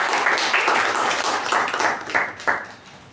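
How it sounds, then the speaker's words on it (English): Applause from an audience at a Toastmasters meeting, a dense patter of many hands clapping at steady volume for a few seconds, fading slightly toward the end. "So a round of applause to Toastmasters"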